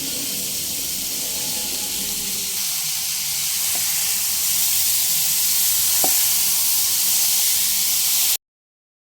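Pointed gourd (potol) frying over a medium flame, a constant loud hiss and sizzle with a few faint clinks of stirring, close by and with no voices, ending abruptly.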